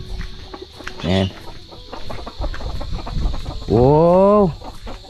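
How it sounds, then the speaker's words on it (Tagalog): Chickens on a farm cluck close by, with two loud, drawn-out calls rising above scattered softer clucks and rustling. "Tingnan natin yung ating mga manok dito."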